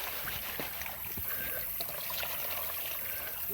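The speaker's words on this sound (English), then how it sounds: "This should fill that up with water." Water trickling and pouring into an XP gold prospecting pan beside a creek, a soft continuous stream of splashing and dribbling at close range.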